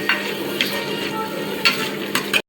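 Prawn gassi masala cooked Mangalore style, with tomato mixed in, sizzling steadily in a pan while being stirred, with a few scraping strokes of the spoon against the metal; close, moderately loud, no talking.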